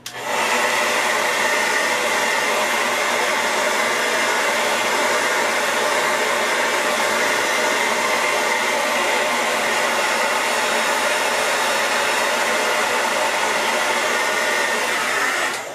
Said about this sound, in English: You can use your hair dryer like this.